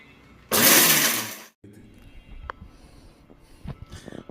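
A kitchen mixer grinder roars loudly while it grinds whole spices for masala, in one burst of about a second. Quieter clatter and shuffling follow, with no talking.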